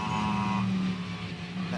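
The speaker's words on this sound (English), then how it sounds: "That buzzing noise you can hear is the air compressor that drives the pneumatic air system that whacks" A steady electric buzz from the air compressor driving the pneumatic gearshift on a GT race car in the Queensland round of the GT World Challenge Australia, holding a continuous hum with a faint higher whine, loud and close throughout.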